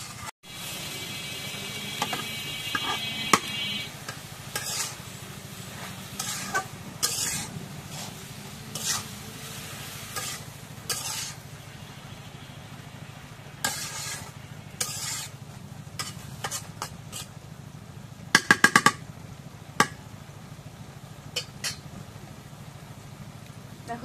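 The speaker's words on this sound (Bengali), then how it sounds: "এখন বাজিটা নাড়া দিই।" A spatula stirs a bhaji of vegetables fried with cumin, garlic and onion pastes in a pan. Intermittent scrapes and knocks rise over a faint, steady background sizzle.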